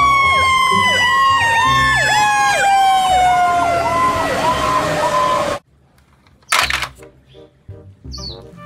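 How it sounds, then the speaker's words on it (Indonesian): An electronic wailing siren from a toy water cannon fire truck, loud and close, sweeping repeatedly up and down for several seconds, then cutting off abruptly. "Wow, ini ada mobil truk water cannon,"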